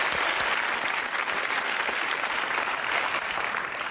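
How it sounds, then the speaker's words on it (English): Studio audience applause at a television comedy panel show, dense steady clapping throughout, close and loud, with no talk over it. "I'll give them a round of applause for their participation."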